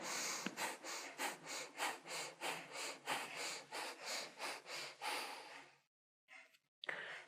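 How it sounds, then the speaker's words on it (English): Rapid rhythmic breath of fire yoga breathing, about twenty short forceful exhalations pulsing evenly through the nose for five seconds, then a pause followed by a couple of softer breaths, close and clear. "Breath of fire."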